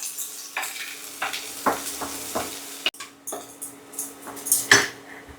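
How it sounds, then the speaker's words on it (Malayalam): Shallots and curry leaves sautéing in a pan, a steady close sizzle broken by repeated scraping strokes of a spoon against the metal every half second or so, with one sharp clank near the end. "ഈ ചെറിയ ഉള്ളി ഒരു ലൈറ്റ് ഗോൾഡൻ കളർ ആവുന്ന വരെ നമുക്കൊന്ന് വഴറ്റാം"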